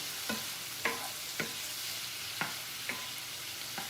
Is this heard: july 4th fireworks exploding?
no